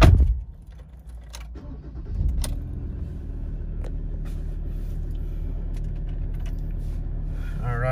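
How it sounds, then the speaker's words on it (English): A 2016 Ford Ranger Wildtrak with a 3.2L engine cranks briefly and fires, then settles into a steady, close diesel idle rumble, with faint key and cabin clicks. "give the car a quick start now."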